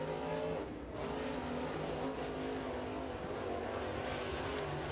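A TNN-powered 604 crate engine in a Warrior chassis race car, the No. 29, roars steadily at close range around Crossville's track during qualifying, a continuous loud drone with no talk.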